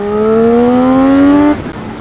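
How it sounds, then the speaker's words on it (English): A 2013 Triumph Street Triple R ABS motorcycle engine revs up steadily with a rising induction roar under throttle, then cuts back abruptly as the throttle closes. "the induction roar on this is addictive"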